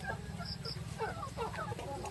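Chickens clucking on a farm, several birds close by with short repeated clucks over a steady low rumble of rain or background noise, with faint voices mixed in.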